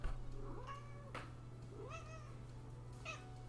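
A noisy cat meows several times in drawn-out, rising and falling calls, close and clear over a steady low electrical hum with no talk.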